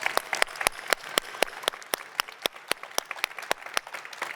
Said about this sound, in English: Let's just have a big round of applause for our panelists.